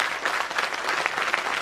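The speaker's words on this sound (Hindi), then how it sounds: "कृपया एक बार जोरदार ताली बजा करके" Audience in a hall at a national convention in Mumbai claps vigorously in a dense, continuous burst of applause, with individual claps flickering through the steady roar and no voices over it.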